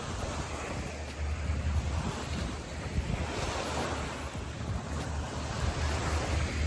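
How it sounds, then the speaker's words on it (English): Ocean surf rolls onto a beach in the early morning, a broad continuous wash of waves with gusting wind buffeting the microphone, fairly loud and steady throughout. "Look how nice the beach is right now."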